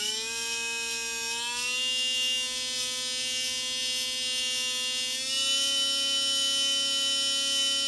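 RC brushless motor winding up on a SkyRC BMA-01 motor analyzer, a steady high-pitched electric whine with strong harmonics that steps up in pitch twice as the throttle rises, with no talking.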